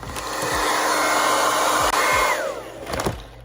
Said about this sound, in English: Now I need to plug up my blow dryer.